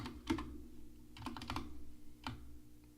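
Someone types on a computer keyboard, close and fairly quiet: short clusters of clicking keystrokes with brief pauses between them, and no voices.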